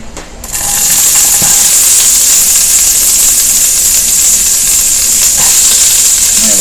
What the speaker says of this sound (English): Here comes the sizzle. It's going to get loud.